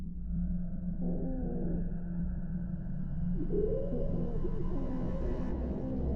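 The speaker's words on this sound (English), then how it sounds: "We can then hear those muffled cries coming from the infected." Muffled, groaning cries from infected figures in an analog horror scene rise and fall over a constant low rumble and hum, with two clear swells of moaning, one early and one longer near the middle.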